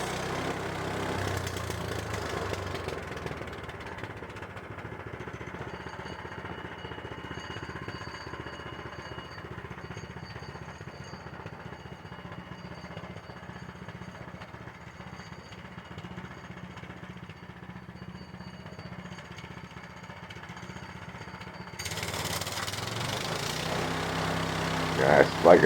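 A Harbor Freight sawmill engine drones steadily while the blade cuts through a log. The sound stays fairly even through the middle, then grows louder and rougher near the end, with a voice faintly audible at times.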